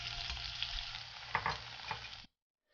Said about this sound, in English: add the beef slices in and listen for that sizzle